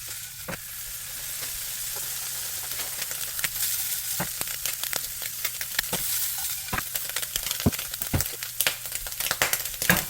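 Ham sizzling in a hot pan for an omelet, a loud steady frying hiss with frequent sharp crackles and pops, close and alone.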